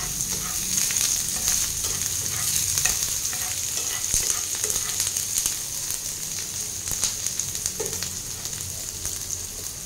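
Chopped green chili and garlic frying in hot oil give a loud, steady sizzle with crackling and occasional stirring scrapes, continuous and close.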